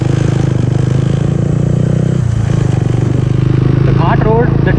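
A motorcycle riding a winding ghat mountain road, its engine drone steady and loud up close with wind rush, briefly dipping midway, and a short voice near the end.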